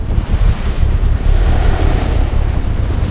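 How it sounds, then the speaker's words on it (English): Loud, rumbling roar of surf and wind, a dense continuous wash of crashing water with no voices. "Waves thousands of feet tall crashed onto ancient shores."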